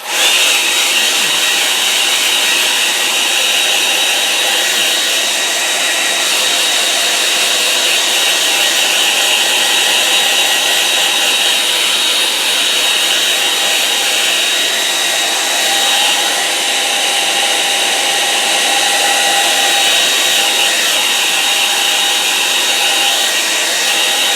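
A hair dryer blows steadily and loudly at close range for the whole stretch, drying a wet watercolour painting of a summer lake, with no talking.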